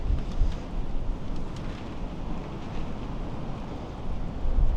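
Steady wind gusting over a lake during a fishing outing, a broad low roar and buffeting rumble that swells and eases throughout, loudest near the end, with no voices.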